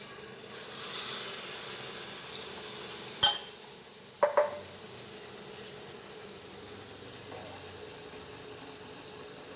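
Spoonfuls of spicy egg pitha batter drop into hot oil in a home kitchen, with a steady broad hiss building and sharp clinks of the spoon against the pan partway through. No one speaks.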